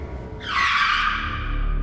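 A broken-down car skids to a halt, its tires squealing loudly and steadily for over a second under a low engine rumble, close and alone with no talking.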